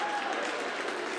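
A large audience applauds and cheers in a steady, dense wash of clapping, fairly loud and unbroken, with no clear talk over it.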